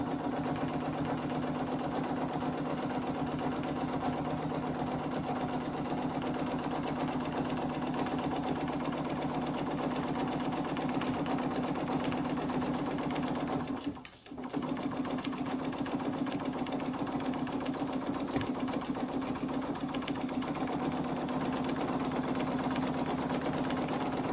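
A sewing machine stitching a poinsettia Christmas quilt hums and chatters in a continuous, fast, even rhythm, close up, with one brief stop partway before it resumes.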